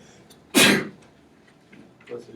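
One sharp, loud sneeze bursts out near the microphone, followed by quiet and a few faint bits of talk.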